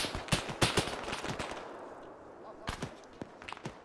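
Gunfire in the military video game Arma 3: a rapid cluster of sharp, loud shots in the first seconds, then a quieter pause and a few more scattered reports near the end.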